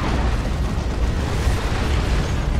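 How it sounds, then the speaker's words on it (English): Continuous roaring, rumbling barrage of explosions from a rocket run strike in Dawn of War 2, dense and loud with no let-up throughout, no voices over it. "There's the rocket run."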